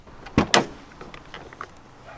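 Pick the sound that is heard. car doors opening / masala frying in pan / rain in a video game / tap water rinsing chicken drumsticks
car doors opening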